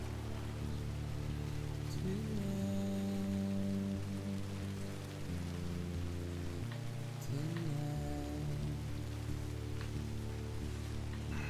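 Timefall rain in Death Stranding pours steadily as a dense, even hiss of drops on surfaces, with low droning game music and tones underneath throughout.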